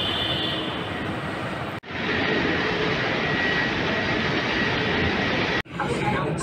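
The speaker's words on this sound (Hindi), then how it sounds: "अब आ चुकी है मेट्रो, अब बैठेंगे इसके अंदर" A metro train in Jaipur, India rumbles steadily up close with a loud, continuous roar as it arrives at a station, broken by two sharp pauses.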